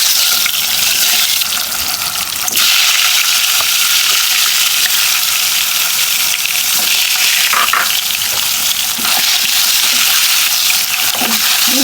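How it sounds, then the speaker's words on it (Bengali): Eggs frying in hot oil in a wok, a loud, steady sizzle and crackle that runs throughout with occasional stirring scrapes and spatters, and no talking. "তেল কিন্তু গরম হয়ে গেছে, এখন আমি ডিমগুলো দিয়ে দেবো।"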